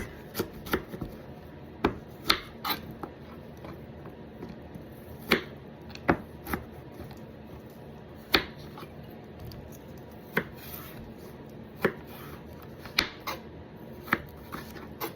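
Knife chopping through sweet potatoes on a cutting board for baked fries, a steady series of sharp, close cuts at an irregular pace with no talking.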